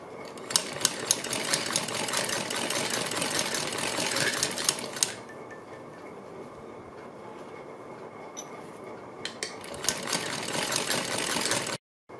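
Electric sewing machine stitching around a blouse neckline, a fast steady mechanical whirr and needle chatter running close and loud, with a brief slower pause in the middle before resuming.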